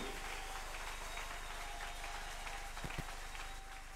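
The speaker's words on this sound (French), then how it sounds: "Est-ce que tu peux très fort acclamer Jésus?" A church congregation cheers and applauds for Jesus, a dense, steady wash of clapping and crowd noise that stays loud and constant throughout, with a couple of brief sharper claps near the end.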